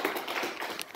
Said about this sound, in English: I'll give it on a hand clap, church